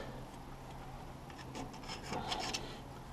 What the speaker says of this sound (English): Scotch-Brite pad, or whatever this is, scouring pad, something from under the kitchen sink.